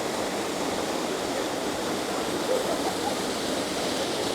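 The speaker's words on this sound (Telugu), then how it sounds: "Fresh water, spring water coming from the mountains in Samoa." The RLS waterfall in Samoa, fed by fresh mountain spring water, gives a steady, dense roar of rushing water that stays even and fairly loud throughout, with no voices.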